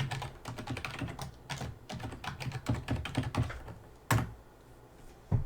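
Fingers typing an email address on a computer keyboard during a OneDrive sign-up on Windows 10, a quick steady run of close, light key clicks with one louder tap near the end and no voices.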